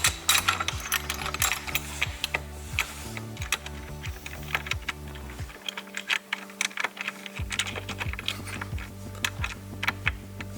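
A washer and nut are threaded by hand onto a bolt while fitting a tent to a trailer, giving rapid light metallic clicks and ticks in irregular bursts with one short pause, close and fairly quiet, with no talking.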